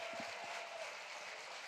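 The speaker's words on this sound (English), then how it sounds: "Give him a round of applause, everyone." Faint, steady applause from an audience at the Microsoft Excel World Championship 2025 finals: a low, continuous wash of clapping heard at a distance throughout.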